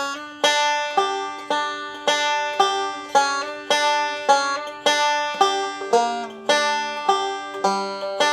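Solo banjo plays a line and ends on a G run. Bright plucked rolls ring out in steady bursts, each decaying quickly, close and clear with no talking.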